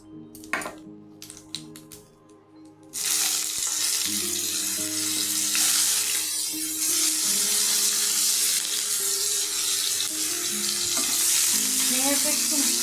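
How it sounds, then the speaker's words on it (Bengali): Ridge gourd hitting hot oil with black cumin, a sudden loud burst of sizzling frying that stays steady and close for about ten seconds after a few quieter clinks and handling sounds. "তাতে দিয়ে দিব ঝিঙ্গাটা"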